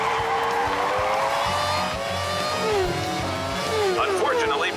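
A cartoon race car slows and pulls into the pit stop during a race, its engine whining through falling and rising pitch sweeps with tire noise. A voice talks over the car throughout.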